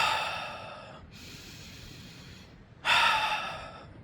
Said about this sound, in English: I'd breathe in through my nose